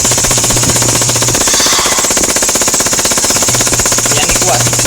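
Rapid automatic gunfire in a dungeon-crawling video game bursts out in fast, dense rattling volleys that fill most of the clip, close and loud, with brief pauses between bursts.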